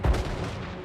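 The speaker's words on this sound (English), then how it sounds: "Hellblaster volley gun!" A Hellblaster volley gun fires in a Total War Warhammer 3 battle, one heavy booming blast at the start followed by a rumbling tail of gunfire, loud and brief.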